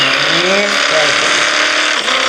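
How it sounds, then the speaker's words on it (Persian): A car engine drones loud and steady in a video game, a continuous close motor tone with slight pitch shifts as the vehicle approaches. "ماشین میاد"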